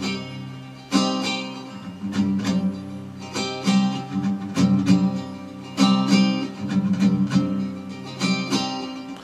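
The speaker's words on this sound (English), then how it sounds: "the other pattern is the 16 stroke pattern, which is what you'll be seeing me playing along with the track" Acoustic guitar strummed in a 16-stroke pattern for a song, playing along with the track in a steady, busy rhythm of bright chord strokes, close and clear with no talking.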